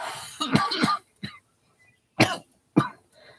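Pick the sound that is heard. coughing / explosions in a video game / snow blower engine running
coughing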